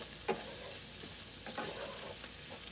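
Beef and broccoli stir-fry is stirred around a hot pan, giving quiet scraping and shuffling strokes over a faint, soft sizzle, with a few sharper knocks at irregular intervals.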